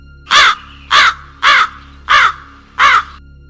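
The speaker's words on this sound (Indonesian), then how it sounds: "Lalu suara burung terdengar jelas." A crow caws five times in an even rhythm, loud and close, each harsh call separated by short pauses.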